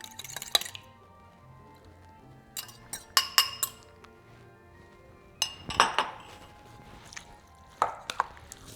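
Two eggs being added to a seasoned fish mixture in a bowl, heard as crisp glassy clinks and taps in scattered bursts. The sound is close, with quiet pauses between and no talking.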